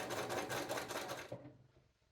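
Sewing machine understitching a jeans pocket seam, a brief run of rapid mechanical stitching that stops abruptly, followed by a faint click, quiet and close.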